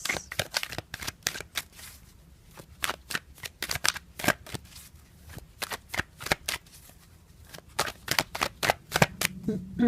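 Tarot cards are shuffled and drawn in quick, crisp bursts of riffling and flicking. The sound is close and fairly quiet, with pauses between bursts.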